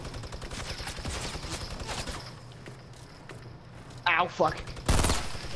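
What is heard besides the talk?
gunfire in Fortnite video game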